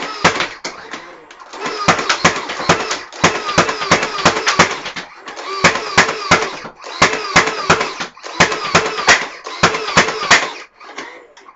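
A modded Nerf Swarmfire dart blaster fires in full auto, with several rapid bursts of sharp mechanical clicks separated by short pauses, loud and close.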